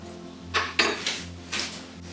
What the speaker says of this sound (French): Donc ma marmite est placée au feu